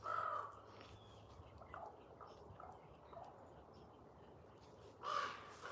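A crow caws twice outdoors, once at the start and again near the end, moderately distant over a faint background hiss and rustle.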